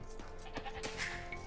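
Goat bleating in Age of Empires 2, a short wavering bleat among soft in-game sounds and a brief higher call, fairly faint under the game's background.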